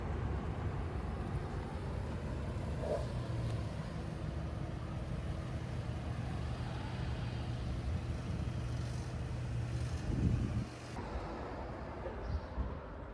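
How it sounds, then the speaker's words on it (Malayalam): A car approaches along a quiet town street, its low engine hum and tyre rumble building steadily, swelling near the end and then dropping away sharply. "നമ്മുടെ വണ്ടി വരുന്നുണ്ട് കേട്ടോ"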